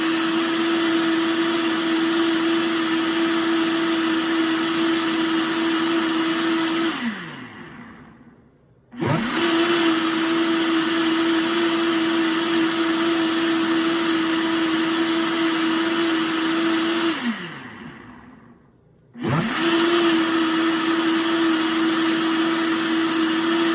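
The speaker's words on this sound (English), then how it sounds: "I already started blending up the sea moss gel" A loud blender whirs in long continuous runs blending sea moss gel, winding down twice into brief quiet before starting up again, with no talking.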